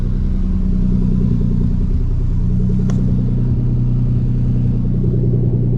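A car engine runs steadily while warming up, a loud, close, even low rumble throughout with a single sharp click partway through.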